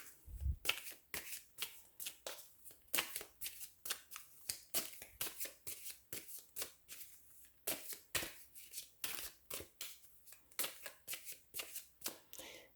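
Tarot cards being shuffled by hand, a long series of crisp, close riffling bursts in a steady repeating rhythm, quiet and alone.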